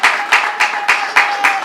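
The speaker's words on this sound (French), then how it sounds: "Sous les applaudissements du public, s'il vous plaît." Audience at a civil wedding ceremony claps loudly and close by in a steady, rhythmic beat, about four claps per second, with a faint tone running underneath.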